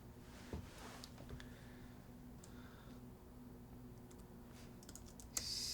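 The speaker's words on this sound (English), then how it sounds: "Ooh, left-handed typing." Faint, sparse clicks of a computer keyboard being typed on one-handed during a color grading session, quiet keystrokes scattered over a low steady hum.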